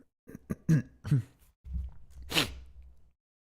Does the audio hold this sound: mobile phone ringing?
no